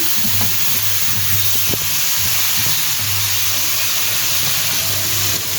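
Marinated desi chicken hitting a pan of fried tomatoes for a curry, giving a loud, steady, broadband sizzle that hisses on without a break, close up and without speech.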